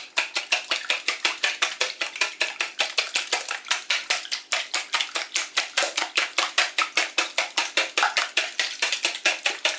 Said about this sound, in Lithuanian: Išplakam.